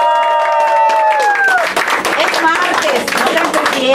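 Small studio crowd applauding and cheering in a radio booth, dense clapping throughout with voices mixed in and a few tonal whistles early on.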